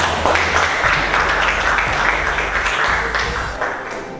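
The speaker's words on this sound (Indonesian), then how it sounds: "Tepuk tangan untuk kita semua." A group of teachers at an academic coaching session claps together, a moderately loud, dense patter of hands that holds steady and then slowly tapers off, heard close in a room without talk.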